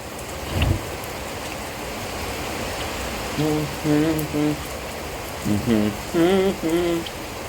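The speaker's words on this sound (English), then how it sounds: "Look, I'm getting rained on." Rain pours down in a continuous broadband hiss, with a thump early on and short spoken phrases over it in the second half.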